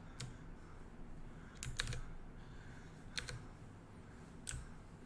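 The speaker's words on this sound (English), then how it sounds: "I like the idea of having the mechanical keyboard sound in my streams" Mechanical keyboard keys are typed in short, scattered bursts, heard faintly and at a distance, with soft clicks separated by brief pauses.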